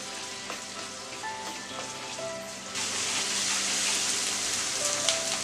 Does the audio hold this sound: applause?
no